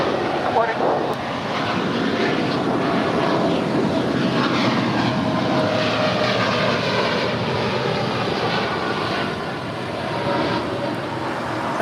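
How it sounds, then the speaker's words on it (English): A seven-year-old American Airlines Boeing 787-8 Dreamliner takes off from LAX bound for Chicago, its engines a loud, steady broadband roar holding throughout, with a faint voice murmuring beneath. "That was American 2187 departing to Chicago. It's a 7-year-old 787-8 Dreamliner."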